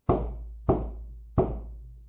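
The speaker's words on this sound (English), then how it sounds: "a loud knock at the door woke me up" Three loud, sharp knocks on a door, evenly spaced about two-thirds of a second apart, each with a short resonant decay and no voices.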